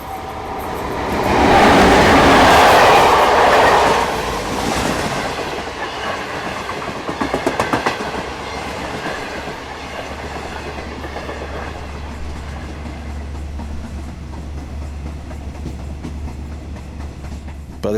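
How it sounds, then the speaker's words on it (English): A passenger train running from Shenyang to Beijing is heard from on board as a steady rolling rumble with rhythmic clickety-clack. A louder roaring swell comes early, then the sound settles into a continuous low drone. "train from Shenyang to Beijing"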